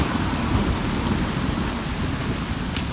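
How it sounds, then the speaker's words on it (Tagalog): Steady, heavy rain hisses throughout with a deep rumbling underneath, like distant thunder rolling, loud and continuous with no voices. "Naririnig ba ang kulog?"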